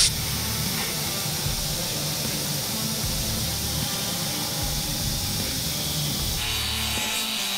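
A programmed cutting table slices through quarter-inch steel plate with a steady, rough hissing roar that runs unbroken for several seconds. The tone shifts slightly near the end, and no one speaks.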